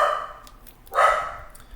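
A dog barks twice nearby through open doors indoors, a short bark followed by a louder, fuller one, with no talking.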